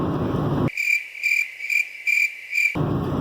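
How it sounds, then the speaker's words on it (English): Crickets chirping as an inserted sound effect, a clean run of about six rhythmic trilling pulses, loud and alone, cutting in between stretches of talk. "Crickets."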